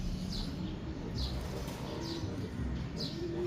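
Homing pigeons in a loft, giving four evenly spaced bird calls over a steady low background rumble.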